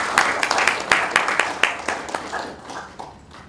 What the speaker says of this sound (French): Sous vos applaudissements, je vous invite d'accueillir Lambert Niémé